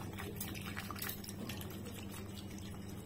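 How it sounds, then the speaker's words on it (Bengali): Cold water pours steadily into watermelon juice being prepared, a faint, continuous liquid trickle and splash lasting throughout. "এবার আমি এর মধ্যে অ্যাড করব হচ্ছে ঠান্ডা জল"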